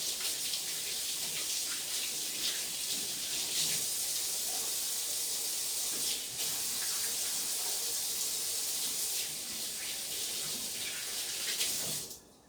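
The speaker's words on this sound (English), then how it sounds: "I'm gonna wash my hands." A kitchen tap runs steadily while hands are washed beneath it, a soft, continuous splashing hiss lasting about twelve seconds before the flow stops abruptly.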